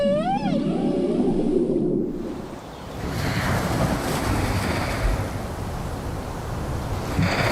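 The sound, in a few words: whale song, males singing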